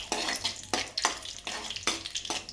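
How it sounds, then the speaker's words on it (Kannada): Cashews fry in a pan for a vermicelli payasam, a close sizzle broken by rhythmic scraping strokes of a spoon stirring them every half second or so. "ಸ್ವಲ್ಪ ಕೆಂಪಗಾಗೋ ಮಟ್ಟ ಗೋಡಂಬಿ ಹುರ್ಕೊಳ್ಳೋಣ."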